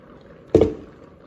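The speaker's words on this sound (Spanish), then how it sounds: "Y vamos a ponerle la mezcla del chile guajillo que hicimos." A guajillo chile mixture poured into a pot for enchiladas, one brief wet splashing plop, close and fairly loud against a quiet room.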